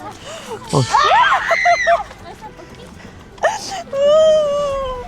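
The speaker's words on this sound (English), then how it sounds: "The distant screams are unsettling." Distant wailing screams and honking cries rise and fall over a faint background at an outdoor haunted attraction in a forest, with a long sustained moan near the end.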